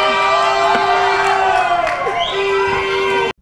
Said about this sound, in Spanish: un grito guerrero para nuestras cámaras del canal CNC